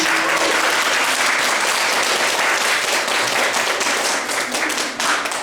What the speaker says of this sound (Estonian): Ja teeme suure aplausi meie väga kõrgete isade emale